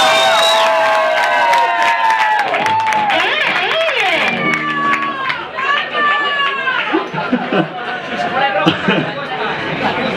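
A concert crowd applauds and cheers for a guitarist at a charity rock show, a loud continuous wash of clapping, whistles and shouts, with people talking and calling out over it.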